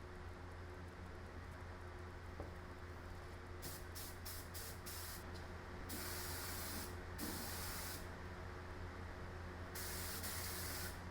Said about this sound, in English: my cheap little spray gun leaked half of it onto me and the floor